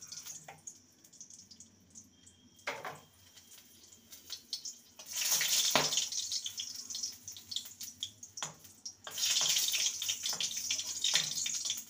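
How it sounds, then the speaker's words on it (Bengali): Three dried red chillies fry in hot oil. Quiet background gives way to two long bursts of bright, crackling sizzle, with no talking. "লঙ্কাটাকে ভেজে নেব।"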